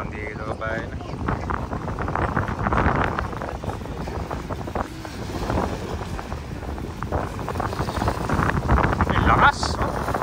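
Strong wind buffets the microphone by the water near boats in Taguig, a steady broadband roar with gusty swells running throughout, while people talk close by.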